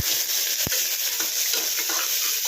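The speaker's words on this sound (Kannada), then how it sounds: "ನೀಟಾಗಿ ಫ್ರೈ ಮಾಡ್ಕೊಳ್ಳೋಣ." Sliced onion frying in a pan sizzles with a steady, close hiss, with a few sharp clicks of stirring against the pan and no voice.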